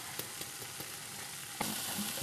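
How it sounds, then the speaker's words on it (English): Dudhi koftas simmering in a tomato and onion sauce get a gentle stir, soft spoon scrapes over a steady sizzle, ending with a louder hissing surge near the close. "I'm very gently just going to give it a stir to mix it quite well."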